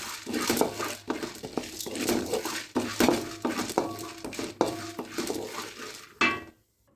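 Chana dal roasting on a low flame in a pan, a spatula scraping and clinking against the metal in a quick irregular rhythm, close and fairly loud, stopping abruptly near the end.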